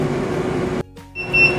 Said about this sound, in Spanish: ya está pitando que ya ha terminado los 5 minutos